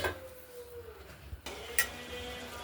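Metal pot lid clinking as it is set back over a simmering cabbage, potato and tomato curry, a couple of sharp clanks over a low background of cooking noise.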